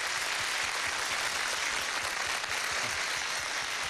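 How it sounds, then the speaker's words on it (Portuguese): Telethon studio audience applauds in a dense, continuous wash of clapping at moderate distance, steady and even throughout with no speech over it. "Muito obrigado pelas palmas"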